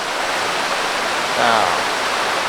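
Steady broadband rush of a flowing mountain stream in Mae Kampong, Chiang Mai, continuous and fairly close, with a faint voice-like tone briefly rising midway.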